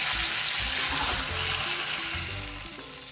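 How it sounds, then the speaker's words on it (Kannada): Loud crackling sizzle of hot oil tempering hitting snake gourd kootu, a dense hiss that fades slightly toward the end, with no talking. "ಇವಾಗ ಈ ಒಗ್ಗರಣೆ ಇದರಲ್ಲಿ ಸೇರಿಸ್ಬಿಡ್ತೀನಿ."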